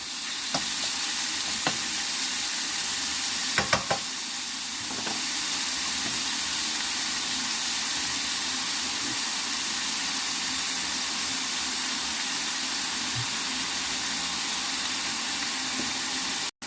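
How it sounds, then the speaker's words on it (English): Bacon sizzles loudly and steadily in an oily pan for a chicken and bacon pasta, with a few brief utensil scrapes early on and no talk over the continuous crackle. "We want to get that bacon nice and crispy, so make sure you pan it out."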